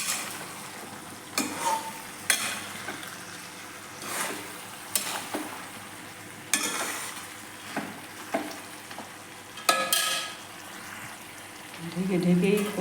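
Chicken kasa frying in a pan in a home kitchen, with steady sizzling broken by sharp scrapes and clanks of a spatula stirring, plus a louder burst of sizzle near the end.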